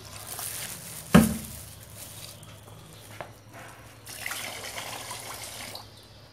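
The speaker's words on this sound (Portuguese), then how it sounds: "Vamos acrescentar um litro de álcool." A liter of alcohol poured from a small jug into a homemade soap mixture, a short splash followed by a faint trickle and liquid sloshing, close and moderately quiet.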